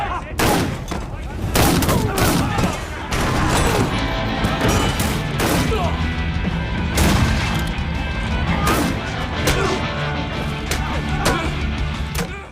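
Gunfire erupts in a film fight scene: a sustained barrage of loud, close shots and bursts with crashes and booms mixed in, dense and near-continuous for about twelve seconds.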